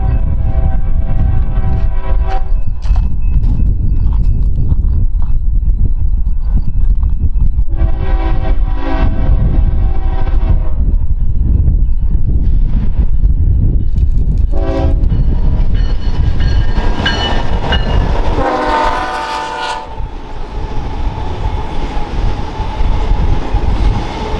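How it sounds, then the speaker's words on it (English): A BNSF manifest freight train heading west toward Pasco on the Lakeside Subdivision in eastern Washington rumbles past loudly and close. Its horn blasts in several long sounds, and wheel clatter carries on throughout. "First to arrive was another manifest train heading for Pasco."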